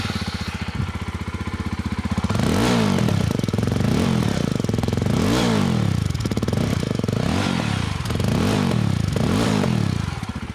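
A motorcycle engine revs repeatedly in loud, rhythmic bursts, each rise and fall followed by crackling pops, close and steady with no talking.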